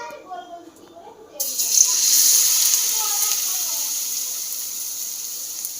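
Water lily flower fritters in gram-flour batter frying in hot oil, a steady loud sizzle that bursts in after a quiet start and hisses on continuously, close by.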